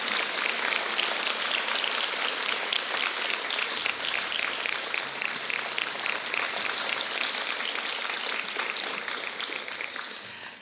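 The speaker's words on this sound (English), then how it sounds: "Let's give these candidates one last round of applause." A crowd applauds steadily for several seconds, a dense wash of clapping that fades slightly toward the end.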